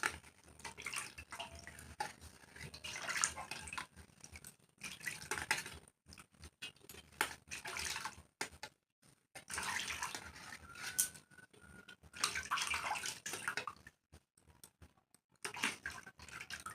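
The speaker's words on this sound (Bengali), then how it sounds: "তারপর এই থালটাও ধুয়ে দেখাচ্ছি।" Rinsing a brass plate under running water: close splashing and trickling in uneven bursts with brief pauses, together with scraping and clinking of metal, fairly faint overall.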